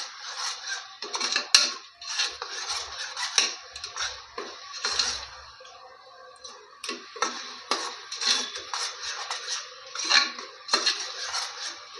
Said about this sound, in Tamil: நல்லா இந்த மசாலா நல்லா வதக்கணுங்க.